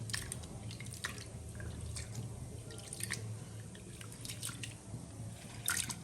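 Lentils are rinsed in water with a soft, continuous sloshing and dripping, punctuated by light splashes and clinks, close up and steady with no voices.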